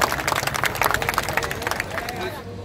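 An audience at an Ambedkar Jayanti celebration in Worli claps and cheers, a dense close patter of hands with crowd noise and voices mixed in, fading toward the end.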